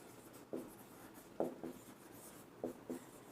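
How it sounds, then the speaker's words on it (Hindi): Equation being written on a board during a chemistry lesson: five short, quiet scratchy strokes in uneven bursts against a faint, still background. "तो एक ये इक्वेशन लिखेंगे"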